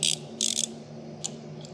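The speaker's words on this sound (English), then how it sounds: "We're gonna have to get a wrench on there." Short metallic ratcheting bursts come from a wrench working on crusty old threads on a 1977 Honda XL350, two quick clicks then fainter ones over a low steady hum.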